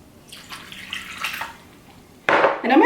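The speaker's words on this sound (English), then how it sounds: "and then I'm going to pour in the water." Water pours into a bowl of unflavored gelatin for homemade marshmallows: a short, loud splashing gush near the end, after a quieter stretch.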